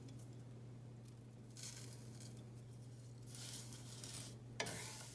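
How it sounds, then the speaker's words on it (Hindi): Roasted vermicelli frying in three tablespoons of desi ghee in a pan for sheer khurma, a soft steady sizzle with light stirring and scraping, fairly quiet and close, with no voices. "सेम ही पैन में 3 टेबलस्पून देसी घी डाल लिया। अब इसमें ये सेवियां डाल लेते हैं।"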